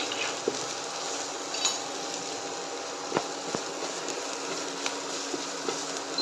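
Crushed ginger, garlic and green chili fry in a hot pan with a steady, close sizzle, broken by a few faint clinks and taps of a utensil.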